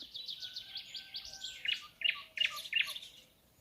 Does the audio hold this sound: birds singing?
yes